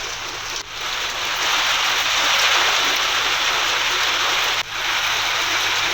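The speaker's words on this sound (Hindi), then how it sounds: "लगातार बारिश हो रही है, लोगों को गर्मी से भी राहत मिल रही है" Heavy monsoon rain pours steadily in Uttarakhand, a dense, loud, unbroken hiss with no voices over it.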